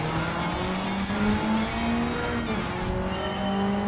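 A loud, steady engine of a Mitsubishi Lancer Evo III GSR in the video game Gran Turismo 7 drones at high revs throughout, with shifting tonal pitch as it accelerates, no voices present.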